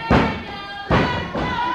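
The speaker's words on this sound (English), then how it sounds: "Big clothesline knocking down Tavis." A wrestler hits the ring mat after a clothesline during a televised wrestling match, two heavy thuds about a second apart, each booming and echoing through the arena, with a lighter knock after the second.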